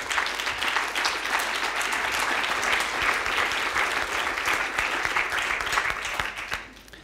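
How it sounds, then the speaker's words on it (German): Warm applause from a symposium audience welcoming a panel guest, dense steady clapping close by that fades out at the end. "Bitte einen herzlichen Applaus."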